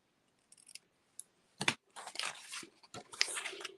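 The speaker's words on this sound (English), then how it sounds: "Maybe I should trim off these a little bit. Hopefully these scissors are sharp enough." Sharp scissors trimming the ends of a paper bow for a handmade card: a few quiet snips and papery rustles, then a run of crisp, close cutting and crinkling with several bright clicks, no voice.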